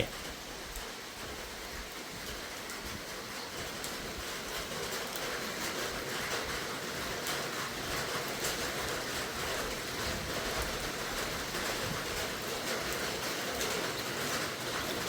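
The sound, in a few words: rain falling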